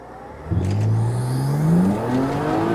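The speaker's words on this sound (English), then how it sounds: "Wheel spinning. Still comes on hard." A BMW E92 335i with a ZF 6HP automatic gearbox pulls hard from a launch, its wheels spinning, the engine note rising steadily in one loud, close, sustained surge before easing near the end.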